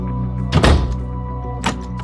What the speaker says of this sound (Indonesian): Saat di ruangannya, Hans segera mengunci pintu kantornya